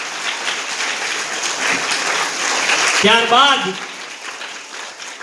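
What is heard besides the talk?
applause honouring a guest at a school event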